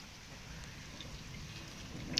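Steady rain hissing down on a surface, a soft continuous patter with no voices, fairly quiet and even throughout.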